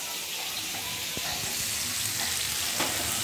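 Potatoes frying in a pan for an aloo-cauliflower curry give a constant loud hiss and crackle, with a few faint knocks underneath.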